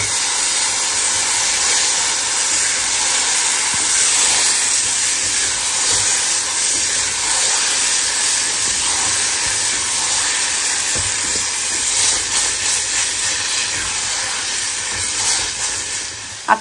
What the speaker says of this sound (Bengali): এর ভিতরে আমি বেগুনটা বাগারে দিয়ে দেব